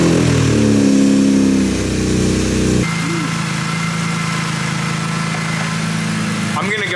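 A BMW E30 with a swapped-in S54 engine cranks and fires up, revving loudly before dropping to a steady, rumbling idle that carries on close by.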